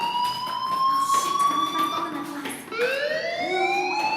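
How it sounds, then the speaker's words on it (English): Fire alarm in the Life is Strange video game, a steady high electronic tone with harmonic overtones that ring continuously, with a brief dip before the tone resumes, sounding alone with no talk. "do you hear that fire alarm?"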